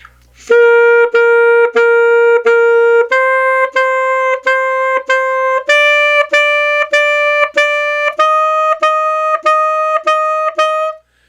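A saxophone plays groups of short, repeated tongued notes that step upward in pitch. Each attack has a slightly smudged, rough onset from unclean tonguing, a dead spot at the front of every note, and no one talks.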